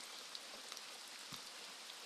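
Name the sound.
heavy rain falling on a hut roof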